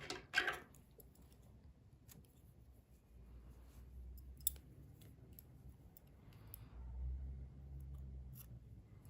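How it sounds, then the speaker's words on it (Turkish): Scissors snip crochet yarn once near the start, a quick, quiet, close cut followed by faint rustling and handling noise. "İpliği kesiyorum."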